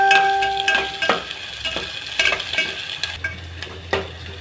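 Onion, peanuts, garlic and spices stirred as they fry in oil in a pan for a chapati dish, with a steady sizzle broken by sharp scraping strokes and metallic clinks of the spoon against the pan.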